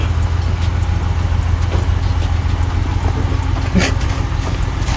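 A BMW E36 M3 engine runs at a steady, loud idle close by, a continuous low rumble with a few faint knocks over it.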